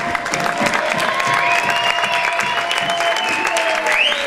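Loud sustained applause from an audience at a slam poetry event filling the space, with a few voices and whistles rising over the clapping.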